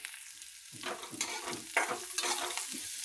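Dill bhaji with peanuts, chilli and garlic frying in oil in a pan, close sizzling broken by several scraping stirs, with bursts of crackle following each stir.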